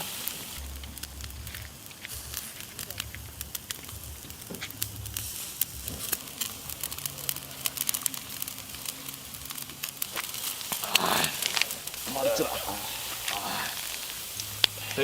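Monitor lizard cooking over a charcoal grill, a faint intermittent sizzle and crackle with scattered pops, a louder burst partway through, and low voices nearby.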